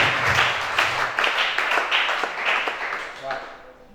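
Church congregation applauding during a worship service, a dense run of many hands clapping at a steady, loud level that thins and fades out toward the end, with some voices mixed in.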